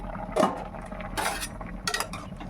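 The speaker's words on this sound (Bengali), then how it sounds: "ঢাকাটা খুলে দেখি" A metal lid lifted off a cooking pot on a gas stove, a few close clinks and scrapes of metal on metal with short pauses between them.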